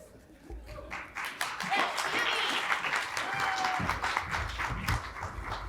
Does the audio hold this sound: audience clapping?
yes